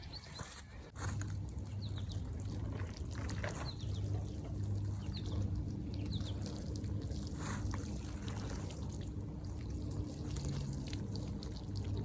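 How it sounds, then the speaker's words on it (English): Watering can pouring water onto dry garden soil outdoors, a continuous soft splashing trickle with birds chirping faintly in the background. "let me get the watering can"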